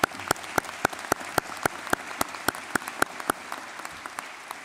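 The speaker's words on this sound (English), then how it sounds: "Another round of applause for Todd Parnell." Commencement audience at a university winter graduation applauding a speaker, heard as a string of sharp, evenly spaced claps close by over a faint background of scattered clapping.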